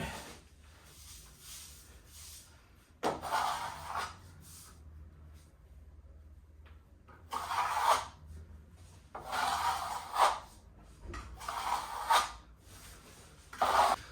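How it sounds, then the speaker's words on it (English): A plastering trowel pushes and blends plaster on a wall, giving several bursts of close scraping and swishing strokes separated by quiet pauses. "the trowel just along this edge here, just constantly trying to push the plaster around"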